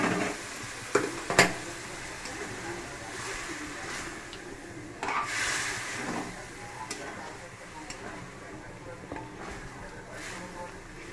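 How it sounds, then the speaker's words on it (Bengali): Hot water poured into a hot cooking pan gives a brief hissing burst over continuous sizzling and the scrape of stirring, while someone talks nearby. "গরম জল দিয়ে দিলাম।"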